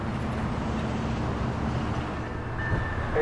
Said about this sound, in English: I arrived at the downtown depot in time to see Amtrak 97, the southbound Silver Meteor, arriving